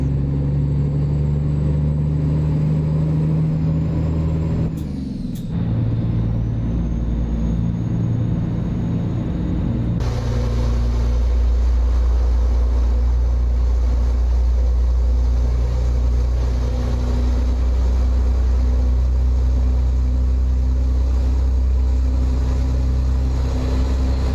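A straight-piped truck engine in American Truck Simulator drones loud and steady at close range, a deep continuous rumble that briefly dips and shifts pitch twice, like gear changes, with no voices.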